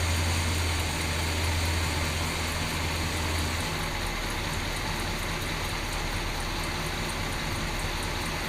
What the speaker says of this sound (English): I think that's as low as the idle will go.